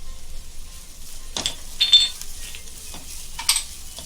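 Fennel powder stirred and roasted in a pan while cooking Konkani chicken saroley, heard as a few soft, quiet scraping strokes with brief bursts over a faint low hum.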